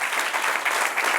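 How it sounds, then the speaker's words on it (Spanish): A church congregation applauds during a Bible class sermon, a thick, even wash of many hands clapping that continues from start to end. "Denle un aplauso al que reina."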